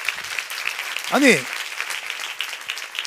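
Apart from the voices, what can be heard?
congregation applause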